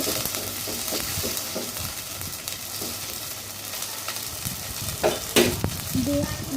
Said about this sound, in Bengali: আমি ভালো করে ভাজা দিয়ে নিচ্ছি।